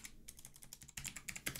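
Rapid keystrokes on a computer keyboard while entering a Rust server reload command, a quick run of clicky taps in two bursts, close and alone with no voices.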